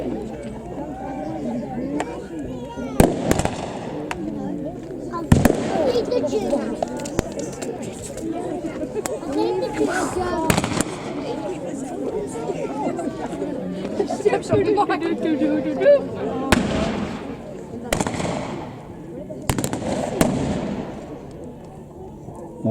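Crowds chatter throughout a World War battle re-enactment display at Blaenavon while about six sharp gunshot bangs go off at irregular intervals, loud and somewhat distant, between patches of murmuring spectators.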